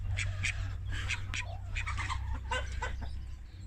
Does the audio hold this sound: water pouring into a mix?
no